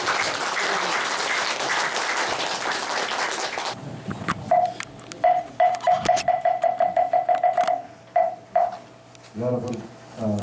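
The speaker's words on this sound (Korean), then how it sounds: "법타 스님 박수 한번 쳐주시고요" An audience in a hall applauding for a Buddhist monk, a loud sustained round of clapping that stops abruptly, followed by short ringing tones and quieter sounds.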